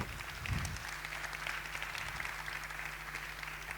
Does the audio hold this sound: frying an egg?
no